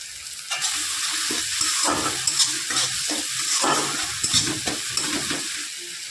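Onion, chili and tomato paste, mixed with garlic, capsicum and tomato paste, frying in a pan for a pointed-gourd and egg curry: loud continuous sizzling with rhythmic stirring scrapes close by, no talk.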